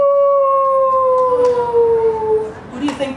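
A storyteller's voice imitating a wolf howling in a long, wavering tone that slowly slides downward, followed by a brief sharper cry near the end.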